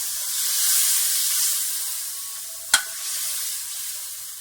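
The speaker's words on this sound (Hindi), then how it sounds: "दही के साथ भी हम इसे भून लेते हैं।" Chicken necks fry with yogurt in a pan, giving a steady, close sizzling hiss with one sharp clink midway; no one speaks.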